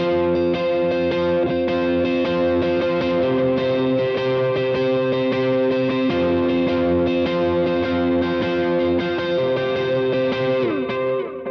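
Electric guitar with slapback delay into a dotted-eighth delay, sustained chords and notes repeating in echoing trails, steady and full throughout.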